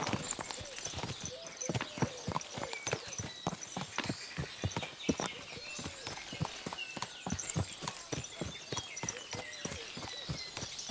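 Horse hooves clip-clop in a steady walking rhythm in the video game Kingdom Come: Deliverance II, crisp and close, continuing evenly throughout.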